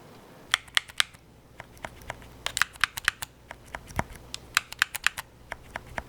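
A Nintendo Switch Pro Controller 2 is knocked and rotated in the hands, giving a scattered series of small, muted clicks and taps, close up and fairly quiet.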